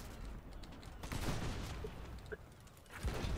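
Cannon fire booms from a pirate ship battle in the video game Blazing Sails, several heavy blasts with crackling gunfire between them, under sporadic talk from players.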